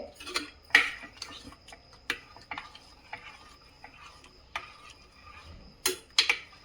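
A spoon stirs chana dal payasa, a sweet Kannada lentil pudding with grated coconut, clinking sharply and irregularly against a metal pot in a quiet kitchen, with scattered louder knocks.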